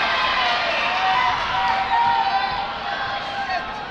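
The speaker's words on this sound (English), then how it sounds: "New South have just missed a shot, so the crowd have gone wild" A crowd at a junior national netball final roars and cheers continuously in a large indoor venue, a loud sustained wash of voices with a commentator talking over it.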